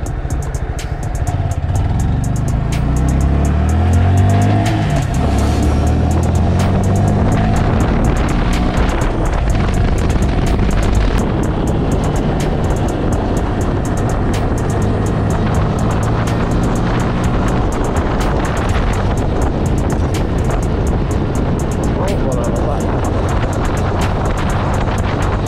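A 2020 Honda Grom motorcycle is ridden, its small engine droning steadily and loudly throughout, with revs rising and falling through gear changes under heavy wind rush.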